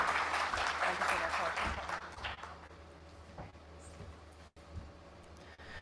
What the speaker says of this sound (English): much more bigger round of applause as we welcome him